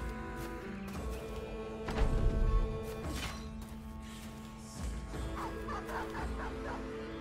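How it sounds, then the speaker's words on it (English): Dogs barking in the Battle Brothers video game, a burst of several yaps and barks mixed into battle sounds and music, loudest in the middle, with crashes and impacts around them. "There go the dogs."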